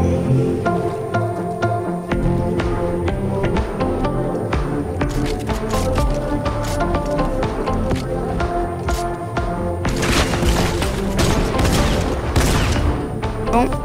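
Sniper gunfire in a video game fight, a series of sharp shots and impacts amid game effects and music, with a dense louder burst near the end.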